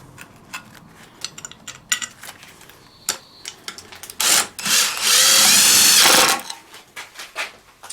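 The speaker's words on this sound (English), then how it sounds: "I put 4 screws in here" A power drill drives screws into a car jack mount while the floor is being raised, starting with scattered clicks and short bursts, then a loud sustained whir near the end.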